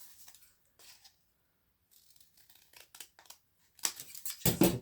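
Scissors cut paper down to size for a specimen slide mini notebook, soft intermittent snips that grow louder and quicker near the end, close and without talk.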